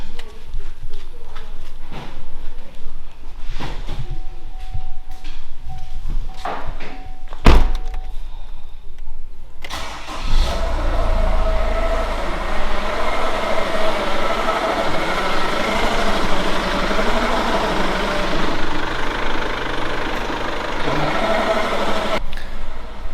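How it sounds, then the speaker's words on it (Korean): An idling second-generation Chevrolet Orlando diesel in neutral, its faulty 6T45 automatic transmission giving a rough, rattling grind, a couple of clunks early, then a louder continuous churning rumble. "미션에서 뭐 빠개지는 소리 같은 와글와글와글 이런 소리가 지금 많이 나고 있어요"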